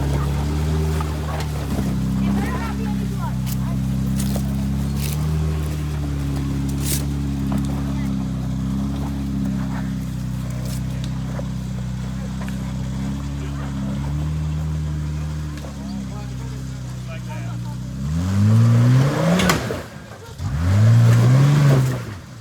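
An off-road truck engine at Windrock Park, a steady loud drone that holds for a long stretch and then revs hard twice in rising and falling surges near the end, with talk over it.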